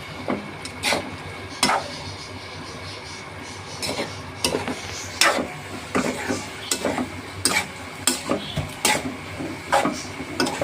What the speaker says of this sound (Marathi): आता हे असं हलवून घ्यायचे.